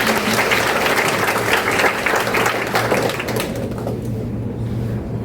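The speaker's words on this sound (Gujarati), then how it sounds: "પ્લીઝ એના માટે એક તાળી" Audience applause in a hall during an inspirational success-story talk, a dense, loud wash of many hands clapping that carries steadily for several seconds before thinning and fading toward the end.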